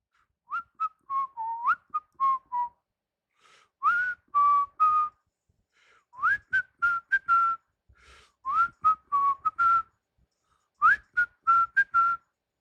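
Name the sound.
people whistling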